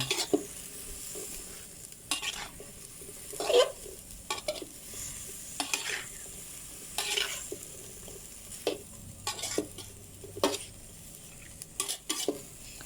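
Onion flowers and fatty pork stir-fried over a gas stove for a Thai dish: steady sizzle under frequent scraping and clanking of a spatula against the pan, close and fairly busy, with no talk.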